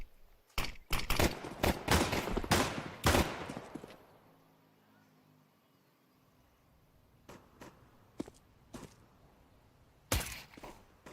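Gunfire from a professional Counter-Strike pistol round: a rapid burst of loud shots in the opening seconds, a lull, then a few isolated sharp cracks and another loud shot near the end.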